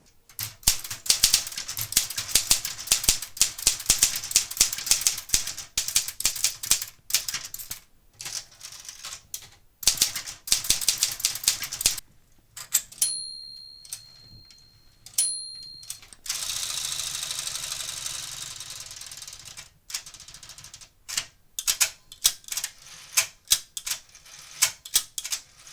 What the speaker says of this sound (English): I sat down and decided to test it out for you in a type test